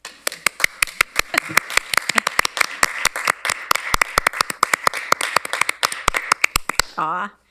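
Clapping in an online council meeting, a steady run of sharp, distinct claps close to the microphone that stops abruptly, followed by a short burst of talk.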